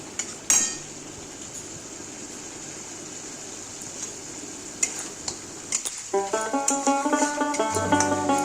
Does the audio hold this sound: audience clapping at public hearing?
no